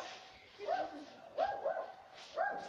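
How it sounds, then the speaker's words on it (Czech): Outside strangers' houses, a dog gives three evenly spaced, fairly close barks about a second apart, with faint voices in the background. "A tady pes!"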